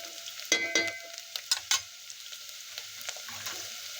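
Onion frying in a pan while being stirred, a soft continuous sizzle broken by a handful of scraping spatula strokes, fairly quiet and close, with no voices.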